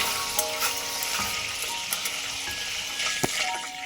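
Whole spices (bay leaf, cinnamon, cardamom) frying in chicken oil are stirred, a continuous close sizzle broken by scraping strokes and small metallic clinks from the spoon against the pan.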